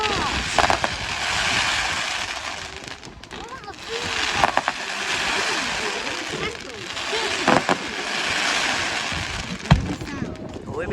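Fireworks at a Bonfire Night display burst at a distance in a few scattered bangs over steady wind-like outdoor noise, with people's voices around.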